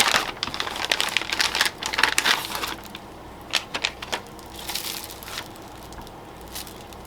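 Opening the zipper top of an Omeals meal pouch, close crinkling and rustling of plastic packaging with sharp zip and snap bursts, loudest early on and then fading to sparser rustles.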